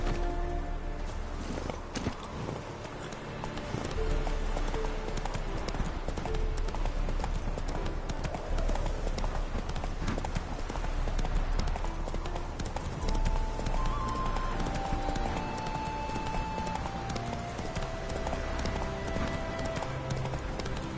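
Roach, a horse in The Witcher 3, gallops with a rapid, continuous clip-clop of hooves over a game music bed, steady and prominent for the whole stretch.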